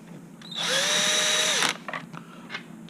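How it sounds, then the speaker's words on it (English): A powered Phillips-head driver fastens a screw into a tricycle gearbox: one whirring run of about a second that pitches down as the screw seats, followed by a few faint clicks. "fastening again with the Phillips head screwdriver"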